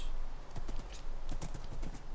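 Horse hooves clip-clop in Minecraft, a quick run of sharp, hollow taps in uneven clusters, fairly close and clear over a faint low background hum.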